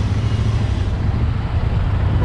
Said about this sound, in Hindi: ये सब मेरे काम पे जाने का ट्रैफिक है